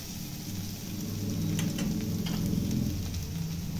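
Garlic sizzles steadily as it fries in a pan, a close, continuous crackling hiss with soft popping that holds even and unbroken from start to finish.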